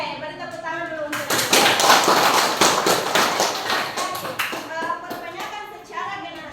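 Students in a classroom lesson clap their hands together in a loud burst of rapid, overlapping claps that swells and then thins out, with voices speaking over and around it.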